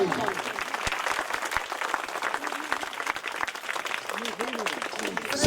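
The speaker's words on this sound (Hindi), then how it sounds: "ताहि के लेल जोरदार ताली देबाक चाहिए।" A crowd at a football cup prize-giving claps loudly and continuously, with scattered voices calling out over the applause.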